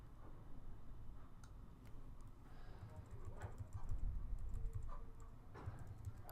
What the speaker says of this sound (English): You can use the arrow keys to move things around too.